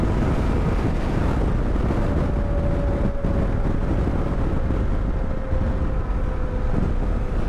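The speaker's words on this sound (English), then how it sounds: "We are doing 120 kmph on 6th gear" A Suzuki V-Strom 800DE motorcycle cruises at 120 km/h in sixth gear, with a steady engine drone under heavy, constant wind rush and a faint sustained tone, close and loud throughout.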